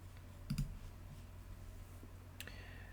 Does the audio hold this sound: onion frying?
no